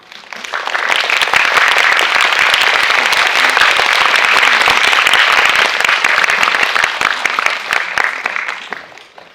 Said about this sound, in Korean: 제재씨 입장하실 때 큰 박수 부탁드리겠습니다